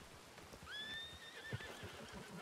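A horse in a Western-themed role-play video game lets out one clear, high neigh lasting nearly a second, over a quiet background with faint hoof clops.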